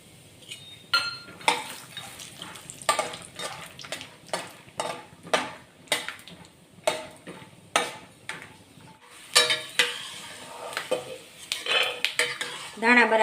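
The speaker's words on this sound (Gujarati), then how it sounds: "હવે આપણે એની અંદર શિંગદાણા તળી લઈએ" Peanuts frying in a pan of hot oil while being stirred with a metal spoon, giving a steady sizzle broken by repeated sharp scraping clinks against the pan, close and fairly loud.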